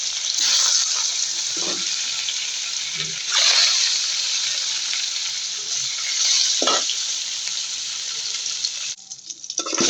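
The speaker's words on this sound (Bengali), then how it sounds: "কড়াইয়ে তেল গরম হয়ে গেছে। এখন আমি মাছগুলো দিয়ে দিব। মাছগুলো ভেজে নিই।" Fish frying in hot oil in a wok, a steady loud sizzle with occasional stirring and splatter bursts throughout, no talking.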